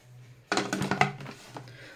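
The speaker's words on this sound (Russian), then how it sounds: "Закрою крышкой." A lid goes onto a Thermomix bowl with a quick cluster of close plastic clatters and knocks, then settles back into a low steady hum.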